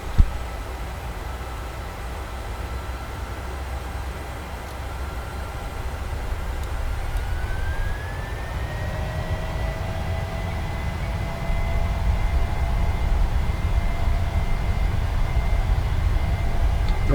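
PMDG Boeing 737-900 jet engines spooling up for takeoff in Microsoft Flight Simulator 2020, a steady loud roar that builds gradually, with a rising whine entering partway through.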